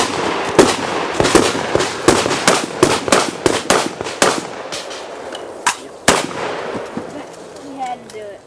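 Rapid shots from a Saiga 12 semi-automatic shotgun with an R&R conversion, a fast string of about a dozen loud sharp blasts, then a couple more spaced shots and a fading tail.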